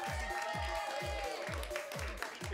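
A crowd at a live comedy night claps continuously, a faint, even wash of hands over a steady kick-drum beat.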